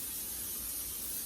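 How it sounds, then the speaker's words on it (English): Cooking spray hisses steadily from an aerosol can into muffin pans, a continuous close, bright spray with no pauses. "I am going to now spray my my muffin pans."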